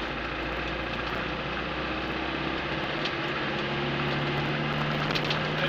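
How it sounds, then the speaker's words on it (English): A Land Rover Defender 90 300Tdi diesel drones steadily on the road as the throttle is released sharply, with the engine note dropping partway through under constant cabin and road noise. "Just taking my foot off the throttle sharply to check backlash."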